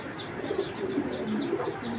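A Belgian-line racing pigeon coos in soft, repeated throaty phrases, close and steady over a low background hum.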